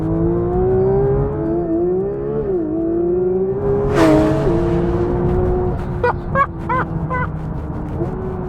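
A Porsche 911 GT3 Touring engine revs hard toward 9,000 RPM, a loud, rising howl through several gear changes, followed by sharp crackling pops and bangs on the overrun.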